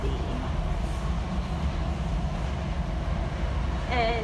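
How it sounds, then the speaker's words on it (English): The steady, loud rumble and rattle of a moving train coach at night fills the space continuously, with a brief higher tone near the end. "I'm inside a train and bored."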